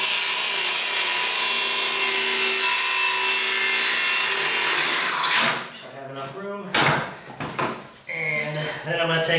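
A power saw makes a loud, sustained plunge cut through a wooden board while building a Halloween coffin, then the whine drops away and someone speaks over a few short scraping sounds.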